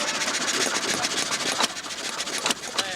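A small 1.5 horsepower motor with a simple carburetor runs steadily nearby, a loud continuous buzzing drone with a few brief sharper bursts and no talking over it.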